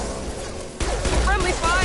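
A burst of rapid gunfire from a Mass Effect 2 firefight breaks out after a quiet start, loud and close, with overlapping shots and combat sound effects filling the rest of the clip.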